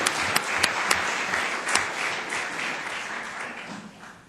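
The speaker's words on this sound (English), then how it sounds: "Let's give them another round of applause." A round of applause fills a city council chamber in Columbus, Georgia, a dense steady patter of many hands with a few sharper claps near the start, fading gradually toward the end.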